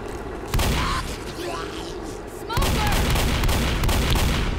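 Gunfire in the co-op zombie shooter Left 4 Dead, with dense bursts of shots over a busy game soundscape that steps up louder partway through.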